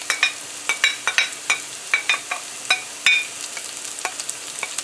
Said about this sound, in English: So we're gonna fry this up for about a minute or so first